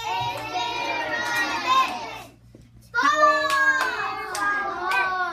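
Young children in a classroom clapping out the syllables of a word together, bursts of claps mixed with children's voices chanting, a short pause, then another round of clapping and chanting.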